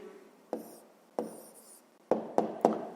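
A hand writing down an answer on paper, with a few short scratchy strokes and taps of the pen, close and quiet, the last three coming in quick succession.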